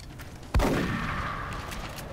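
In XCOM: Enemy Within, a sharp, loud gunshot cracks out on rapid fire and leaves a ringing, echoing tail behind it.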